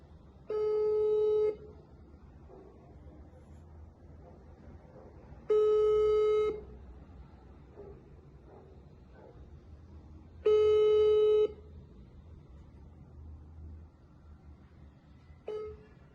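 An unanswered telephone call rings out through the earpiece: three long electronic ring tones spaced about five seconds apart and a fourth cut short, steady and moderately loud over a quiet room.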